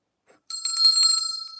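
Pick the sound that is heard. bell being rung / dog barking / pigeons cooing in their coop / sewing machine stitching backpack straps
bell being rung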